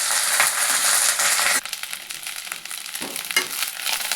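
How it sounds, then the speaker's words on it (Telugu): Curry leaves fry in a pan for a curry leaf powder with tamarind, a loud crackling sizzle easing after the first second and a half into softer frying with occasional scraping stirs. "కరివేపాకు వేసుకుందాం బాగా కలబెట్టుకుందాం"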